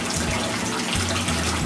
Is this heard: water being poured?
yes